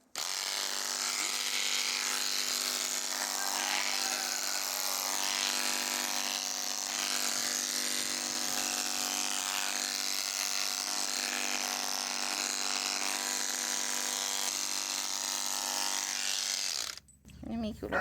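Electric clippers buzz steadily while trimming a miniature horse's neck, running nearly continuously at close range for about seventeen seconds and then cutting off, with occasional soft speech mixed underneath.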